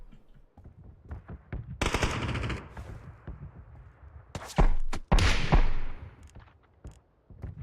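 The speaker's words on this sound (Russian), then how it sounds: "Откуда он стреляет?" Video game gunfire crackles in bursts: scattered single shots, a sustained automatic volley, then two louder, closer bursts, with quieter shots trailing off afterward.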